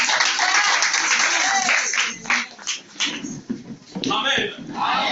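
A church congregation applauds, a dense, fairly close clapping that swells and dips in waves over a few seconds, mixed with voices.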